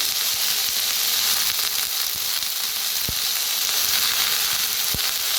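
Washed, cut mixed vegetables such as carrot and potato roasting in a pan over a wood-fired stove, giving a dense continuous sizzle with faint occasional knocks; no voices.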